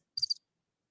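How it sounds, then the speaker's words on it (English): A short cricket chirp sound effect played from a soundboard button, two quick high trills lasting well under half a second, then silence. "Where's my cricket button?"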